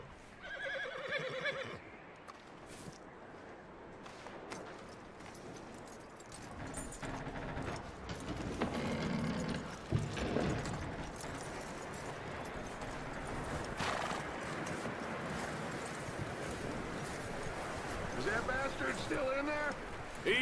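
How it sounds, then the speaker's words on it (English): Horse in Red Dead Redemption 2 neighing and whinnying, with clip-clopping hooves and tack jingling, close by; people talk over the scene while the animal snorts and moves about. "That looks like a decent horse."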